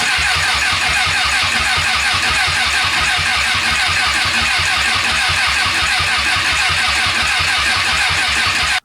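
Overheated engine revving hard with the throttle held wide open, a loud, close, sustained roar that holds steady throughout before cutting off abruptly at the end.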